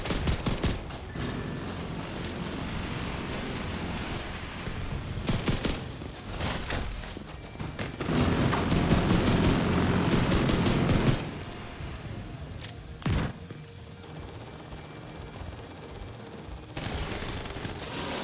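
Rapid automated autocannon fire from a defense turret in The Division 2, heard as sustained bursts of loud gunfire with a busy game mix and effects behind it.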